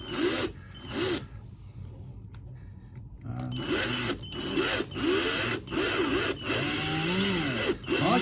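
A small power drill bites into the top of a model barrel for an O scale construction layout, giving close whirring bursts that stop and restart in short repeated runs, with no talk.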